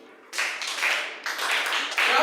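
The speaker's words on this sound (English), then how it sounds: "Let's clap for him." An audience claps for a lecturer at an arts club talk, a burst of applause starting suddenly after a brief quiet and continuing unevenly with swells and dips, close and fairly loud.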